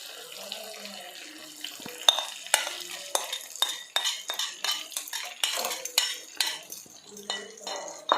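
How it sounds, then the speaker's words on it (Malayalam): Gravy poured over crisp-fried Afghani chicken in a pan, mixed with a run of sharp metal clinks and scraping spoon strokes against the pan, close and fairly quiet, with no talking. "ഇനി നമുക്ക് ഈ ഒരു ഗ്രേവി ഇതിൻ്റെ പുറത്തേക്ക് ഒഴിക്കാം."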